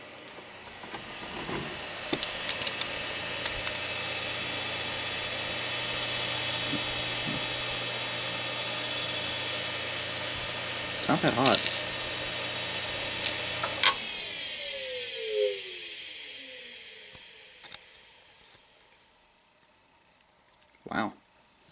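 A SCSI hard drive spins down loudly after a computer shutdown, with a steady whine and hiss that falls away midway, followed by a few faint clicks and a short voice.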